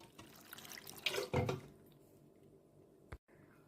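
Water splashes into a pressure cooker holding cut green mango pieces, a quick gushing pour of about half a second against a quiet kitchen background, followed by a brief knock.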